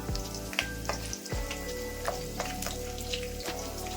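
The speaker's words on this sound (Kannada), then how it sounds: "ಇದು ಹಸಿಮೆಣಸಿನ್ಕಾಯಿ ಫ್ರೈ ಆಗ್ತಾ ಇದ್ದಂಗೆ ಒಂದು 4ರಿಂದ 5 ಒಣಮೆಣಸಿನ್ಕಾಯಿ ಹಾಕ್ಕೊತಾ ಇದ್ದೀನಿ" Green chilies and four or five dried red chilies fry in hot oil for a brinjal chutney, giving a steady sizzle with occasional sharp crackles and stirring knocks, heard up close and with no voices.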